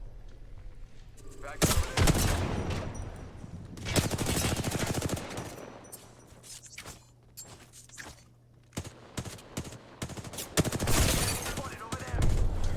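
Apex Legends match with dense gunfire: bursts of automatic shots and single rounds crackle near and far, and grenades go off among them. An esports commentator talks over the action throughout.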